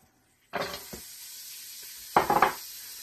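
Carrots drop into hot olive oil at the bottom of a soup pot and burst into a sudden sizzle, then a fainter steady hiss follows before a second loud spattering burst as the vegetables are stirred.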